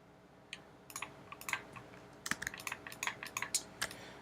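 Quick bursts of keystrokes clatter on a computer keyboard, sparse at first and then a denser run of sharp taps, close by and fairly quiet with no voices.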